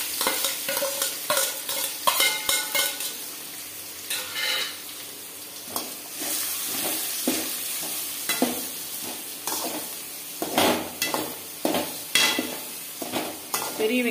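Finely chopped big onions frying with curry leaves in a pan for cauliflower gravy, a steady sizzle broken by repeated close scraping stirs and occasional clanks of the spoon.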